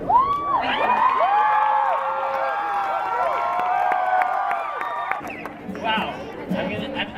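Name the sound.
concert audience cheering and applauding after a performance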